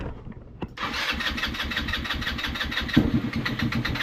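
Scooter engine cranked with the choke off: a short starter burst, then the motor catches into a rough, pulsing idle with a sharp surge midway, loud and close.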